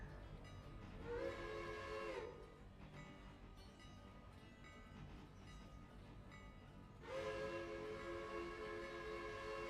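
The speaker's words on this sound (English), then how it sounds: "I don't even know why I'm blowing the whistle." A passenger train locomotive's whistle sounds in two sustained blasts, the first short and the second longer, over a steady rumble of the moving train with no talk.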